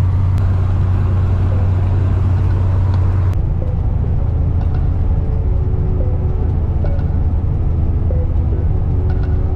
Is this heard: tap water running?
no